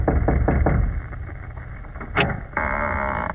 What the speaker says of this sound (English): Well, here's the door. Knock.